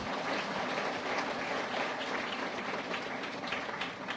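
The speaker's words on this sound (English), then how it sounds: "Could everybody who found it great also applaud, please?" Audience applause at a lightning-talks session fills the room, with dense, sustained clapping from many hands at close range that continues evenly throughout and fades slightly at the end.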